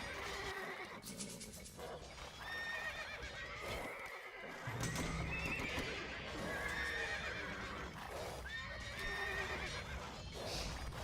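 Light cavalry horses in Age of Empires 2 neigh and whinny repeatedly over busy clip-clopping hooves and battle noise, a dense, continuous game soundscape at moderate loudness.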